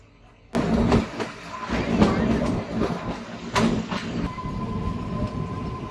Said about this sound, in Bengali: তারপর ট্রেন ছেড়ে দিল ঠিক 8টা 5-এ। কালকা রেলওয়ে স্টেশন থেকে ছেড়ে চললো সিমলার উদ্দেশ্যে।